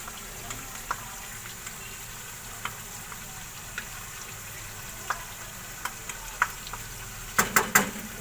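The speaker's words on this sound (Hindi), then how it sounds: "ये चिकन हमारी अच्छी तरह से फ्राई हो गई है।" Chicken pieces fry in a pan for chicken shorba, a soft continuous sizzle with scattered small pops and spatters, then a quick cluster of sharper clinks or spatters near the end, heard alone.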